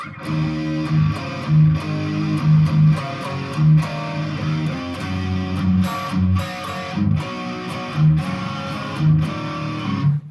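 Electric guitar plays the lively chorus riff of a song, punchy chords and single-note accents, clear and close, with no talking.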